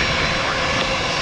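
A McDonnell Douglas MD-88 jet airliner lands at an airport, heard as a loud, steady, broadband engine roar that fills the moment with no talking.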